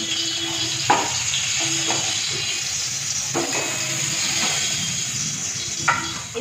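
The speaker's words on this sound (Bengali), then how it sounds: "বেগুনটা ভেজে তুলে নিলাম" Eggplant frying in hot oil gives a steady, close sizzle and hiss, with a few soft clinks of utensils rising now and then above the constant crackle.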